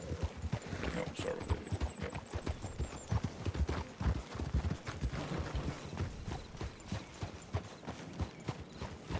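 Horse hooves clip-clopping in a ranch roleplay video game, a dense run of hoofbeats throughout with a brief whinny early on.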